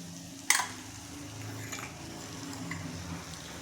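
Dry spices (red chilli powder, black chilli powder, turmeric) sautéed in a pan on low heat for a traditional Bhogi vegetable dish: one sharp clink of a spoon on the pan, then a soft steady sizzle with light stirring scrapes.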